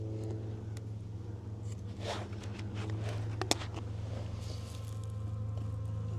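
Honey bees buzz around a 12-year-old hive as it is removed and relocated, a constant low droning hum close by with a few sharper passes and a faint click over it.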